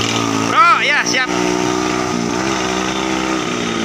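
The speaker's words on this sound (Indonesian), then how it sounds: "Dengan Yamaha VCR-nya dan motor-motor klasiknya kembali menjalur di hari Selasa ini" Classic motorcycles, including a Yamaha VCR, ride along near Gunung Lio, with a steady engine drone running throughout while a voice talks briefly early on.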